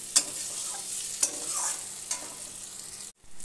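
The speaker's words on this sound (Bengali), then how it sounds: "এবার হালকা গরম জল দিয়ে দেবো।" Warm water poured into a frying spice and potato mixture for a bata fish curry produces a steady, close hissing sizzle with a few sharp clinks, then cuts off abruptly near the end.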